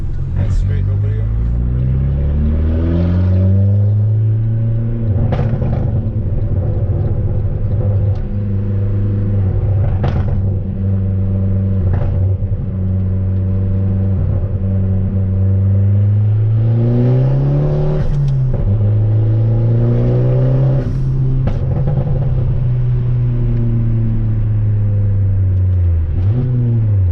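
Fiat Abarth car engine revving hard and loud, climbing in pitch through each gear, then dropping briefly at every shift before pulling again, in repeated surges.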